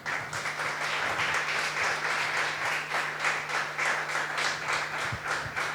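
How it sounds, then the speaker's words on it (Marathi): A church congregation at a New Year service claps hands in a sustained, fairly regular rhythm, many people clapping together at moderate loudness under a faint steady hum. "देवासाठी एकदा टाळ्या वाजवूयात"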